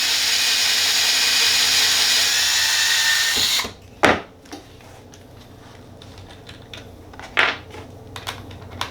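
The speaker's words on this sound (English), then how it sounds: "I'll actually use the sander to just sand it up a little bit." Power sander whirring steadily and loudly on a crude wooden sanding block for about three and a half seconds, then cutting off, followed by a few sharp knocks and handling clatter.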